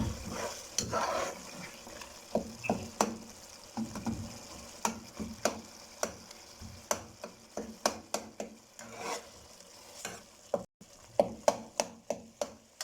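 Beef karahi with finely chopped tomatoes frying in a pan, a soft sizzle under repeated rhythmic scrapes and taps of a spoon stirring, close and steady.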